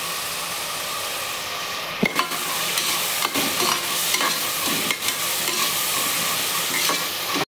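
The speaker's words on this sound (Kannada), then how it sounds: "ಕರಿಬೇವು ಹಾಕ್ತಾ ಇದ್ದೀನಿ" Curry leaves sizzle and crackle steadily in hot oil for vangibath, with a spoon stirring and scraping through the pan in several brief clatters; loud and close, no talking.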